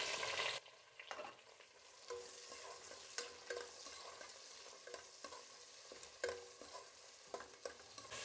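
Onions frying in a mix of ghee and oil, with a faint, steady sizzle broken by repeated clinks and scrapes of a stirring spoon over several seconds, close but quiet.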